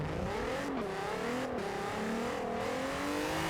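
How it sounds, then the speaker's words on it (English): Car engine in Forza Horizon 4 revving hard through a drift build, pitch climbing and dropping sharply at each rapid gear change, about three quick shifts, steady and close with no talking. "The transmission changes"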